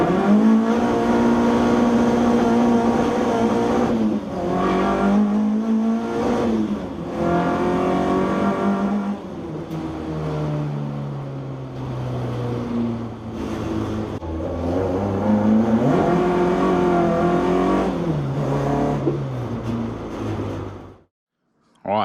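An old car driven without its bonnet revs and accelerates through repeated gear changes, the engine note rising and falling loudly for about twenty seconds before cutting off abruptly.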